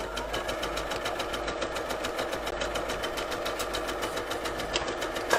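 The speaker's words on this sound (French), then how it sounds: "C'est pas le moment d'avoir des problèmes de machine à coudre." Sewing machine stitching straight seams in fabric for a dress, a steady rapid mechanical whir with a fast regular needle rhythm, close and continuous, with no talk.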